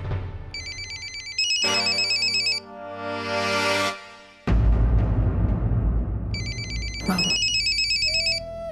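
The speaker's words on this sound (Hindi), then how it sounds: "उसी का फोन आ रहा हूँ" A phone ringtone plays loudly in repeated bright electronic bursts, separated by swelling musical tones and a deep rumbling passage.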